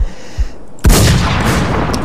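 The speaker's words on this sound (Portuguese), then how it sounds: "como é que eu errei esse tiro?" In a video game, a single sharp gunshot cracks out loudly after a quiet moment, followed by a lingering rumbling echo and background noise, close and prominent with no talking.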